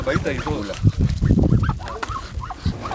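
Several farm-raised chickens cluck close by, a busy overlapping chatter of short clucks and rising calls.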